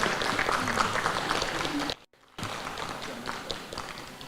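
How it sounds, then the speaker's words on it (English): An audience applauds at a State House welcome for a marathon champion, with dense, steady clapping that breaks off for a moment and then resumes. "A clap for that as well."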